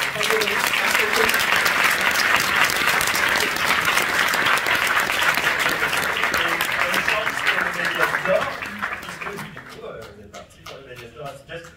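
Long, dense applause from a festival ceremony audience for Stéphane, holding strong for about nine seconds before tapering into sparse claps and low chatter.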